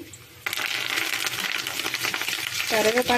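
Curry leaves hit hot tempering oil with a sudden burst of loud crackling sizzle that keeps up close by, and a voice briefly joins near the end.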